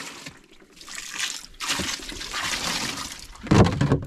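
Water is poured into a container aboard a fishing boat on the Pacific, a rushing, splashing pour that swells and ebbs, ending in a louder gush, with no talking.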